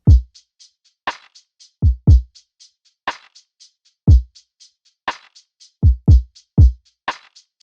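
A laid-back lo-fi drum beat with booming kicks, crisp snares and a swung, muted hi-hat with its highs cut out ticking between them, looping at a slow groove.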